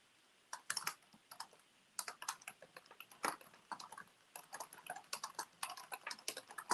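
Someone typing a note on a computer keyboard, close and steady bursts of crisp key clicks with short pauses between words, no voice over it.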